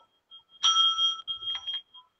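A single bright debate timer bell rings once and its tone lingers briefly, faint and thin, with a few muffled sounds after.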